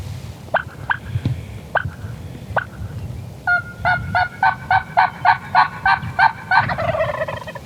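Wild turkey gobblers gobble in the open, a few separate calls first and then a long, rapid rattling series of gobbles, clear and fairly close, with no talking.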